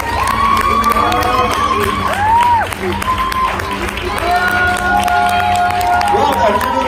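A crowd at a Swiss singing-contest semi-final applauds and cheers loudly for a young contestant, with whoops and shouts rising over steady clapping and a host's voice speaking through it.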